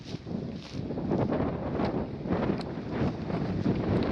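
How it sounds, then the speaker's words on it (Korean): Steady wind gusts buffet the microphone outside a closed school in Hongseong, South Chungcheong, with a low, rumbling roar that swells and holds throughout. "바람 소리 들으시나요?"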